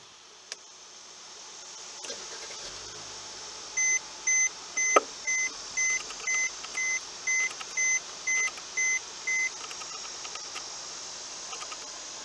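Once the push-button ignition is pressed in a 2016 Mercedes-Benz E400 coupe, the cabin sounds a regular series of about a dozen short, clear electronic beeps in a quiet interior, with faint clicks around them.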